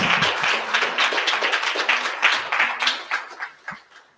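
A congregation at a funeral service claps hands together, a quick, rhythmic patter of many close hand claps that gradually thins and softens toward the end.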